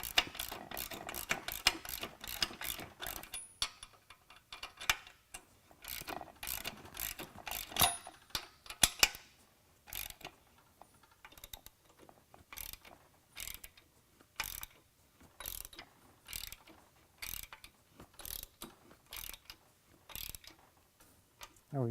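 Fitting tightened down with a ratcheting tool, a long run of rapid close clicks that settles into evenly spaced, sharp ratchet ticks with short gaps between turns.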